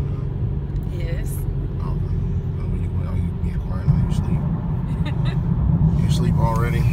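Car interior while driving: a steady low road and engine rumble runs throughout, with people talking over it.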